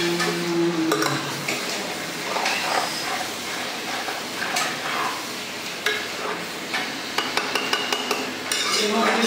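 Meat being stirred and fried in a pan while cooking for a room picnic: a steady, close sizzle and hiss under repeated scraping and stirring clatter, with sharp clicks near the end.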